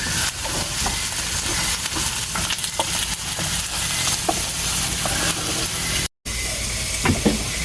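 Food sizzles steadily in a pan as it is fried and stirred for escabeche during a Filipino family lunch, with scattered utensil clicks and scrapes over the hiss and one brief dropout near the end.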